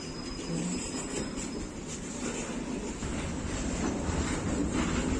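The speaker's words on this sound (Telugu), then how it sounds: "ఈ ట్రైన్ అయితే మూవ్ అయిపోయింది అనమాట." A train pulls away from a station platform, a steady rumble of rolling wagons with faint rail clatter and a thin whine, heard from nearby at moderate level without talk.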